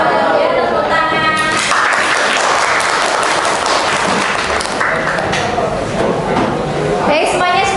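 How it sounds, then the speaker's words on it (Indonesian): Loud, dense applause fills a classroom after a student group finishes its presentation, sustained throughout with some chatter mixed in. "Ya, tepuk tangan."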